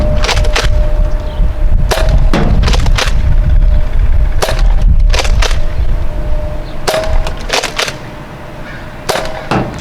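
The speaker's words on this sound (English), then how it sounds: "we're gonna try to hit it first with the Chronos with the rival ammo" An HIR Chronos blaster fires Rival foam ammo outdoors near woods, giving several sharp snapping shots in irregular bursts over a steady windy, hissing outdoor background.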